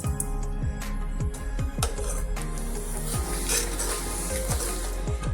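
Sesame seeds stirred into hot jaggery syrup for tilgul, a spoon scraping and knocking against the pan in quick irregular strokes over a faint sizzle, close and steady without talk.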